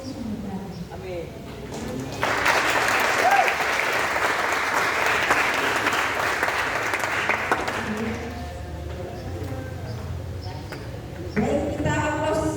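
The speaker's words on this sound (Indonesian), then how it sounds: "kita aplaus" An audience of students at a school orientation event claps together for about six seconds, loud and dense, with speech before and after the applause.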